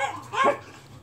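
A dog out in the yard gives a single short bark, fairly close and loud, against a faint low hum.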